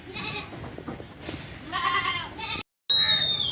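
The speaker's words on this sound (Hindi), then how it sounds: "एक ये बकरी है मेरे पास, तैयार है, बिल्कुल गाभन बकरी है" A pregnant goat at a livestock market bleats several times in close, nasal wavering calls, separated by brief pauses, with a sharp cut near the end before another bleat begins.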